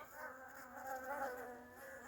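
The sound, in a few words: bees swarming at beehive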